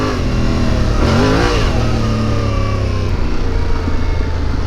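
A new 2021 Yamaha Tenere 700 motorcycle engine revving nearby, a loud steady rumble that swells into one quick throttle blip and settles back to a rough idle.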